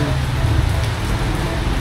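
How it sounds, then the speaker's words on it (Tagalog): Steady heavy rain falling around a municipal complex in the morning, a dense continuous hiss of drops on surfaces close by, with no voices. "Uy, grabe! Maulan!"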